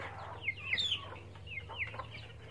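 Chickens on a home farm, some sick with a poultry disease, give a few short clucks and squawks nearby, sounding alone over a low steady background hum.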